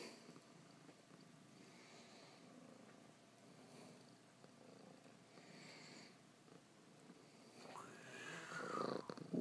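A cat purrs softly and continuously, a low rumbling purr that rises into a louder, closer burst near the end, with no talking.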